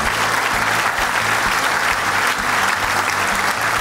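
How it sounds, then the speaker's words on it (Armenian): A large audience applauds loudly and continuously, a dense wash of clapping that stays steady throughout with no voices breaking through. "ձեր բարձր ծափարությունների ներքո"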